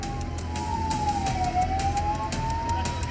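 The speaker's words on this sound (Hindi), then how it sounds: "वहीं एक मरीज को ले जा रही ये एम्बुलेंस सिंगू बॉर्डर पर फंस गई।" Ambulance siren wailing in a slow rising and falling tone while stuck at a sealed border checkpoint amid heavy protest crowds, steady and fairly loud over rumbling traffic and crowd noise.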